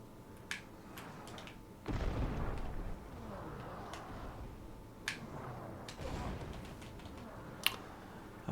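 Deep booms of cannon fire in the video game Disney Infinity go off a few times, heavy and rumbling, among clicks and light background noise.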